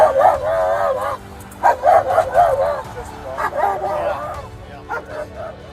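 A police dog shut inside a patrol car barks and yips repeatedly in excited bursts, muffled by the enclosure, over steady background noise.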